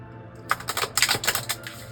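A quick burst of crisp, clicking riffles as a tarot card deck is shuffled close by, lasting about a second.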